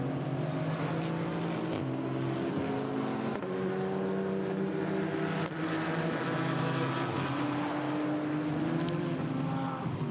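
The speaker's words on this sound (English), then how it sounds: "So now the cars start to pick up pace again." GT4 race cars accelerate back up to speed at Paul Ricard circuit during a GT4 European Series race after a slowdown, their engines a steady, dense roar with pitches climbing and shifting through gear changes.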